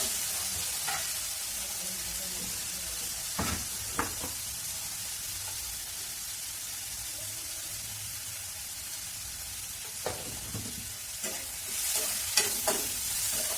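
Methi sabzi (fenugreek leaves) frying in a pan with salt: a soft, steady sizzle continues throughout, broken by occasional stirring scrapes and taps, with no voices.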